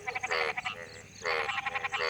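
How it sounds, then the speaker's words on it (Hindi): A frog croaks in rapid pulsed trains, two close, loud bursts separated by a short pause, with no other sound around. "मेढक का टर्राना काफ़ी मशहूर ध्वनि है"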